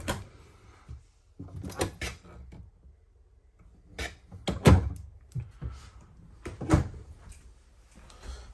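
Storage compartment door on a 2022 Nitro 33DK5 fifth-wheel toy hauler with a 13 ft garage, heard as a series of close thunks, rubs and latch clunks, with scraping between bursts and no talking.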